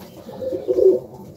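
Pigeons coo in a low, soft, throaty murmur that swells briefly and fades, close by on a cold morning in Melbourne, Australia, with no talking.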